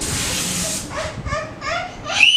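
A silly string can spraying in a short hissing burst at close range, followed by faint squeaky noises and a rising squeal at the end.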